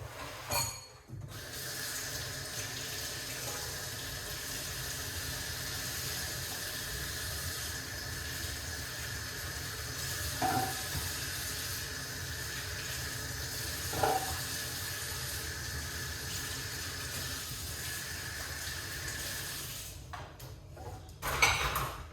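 Tap water runs steadily for about twenty seconds, a constant hiss with faint splashes and clinks as beetroots are rinsed beneath it.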